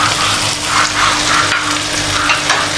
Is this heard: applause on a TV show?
no